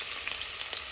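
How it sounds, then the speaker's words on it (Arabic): Onions frying in hot oil for a chicken drumstick kabsa, a steady close sizzle with faint stirring, no voices. "احنا طبعا حاطين الزيت، اول حاجه بنحطها بعد الزيت هو البصل"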